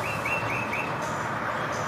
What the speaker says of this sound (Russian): Что за птичка кричит?